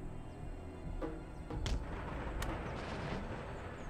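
Round shot fired by artillery in a large Empire: Total War battle, with dull booms and a few sharper cracks rolling over a continuous low rumble of distant cannon fire.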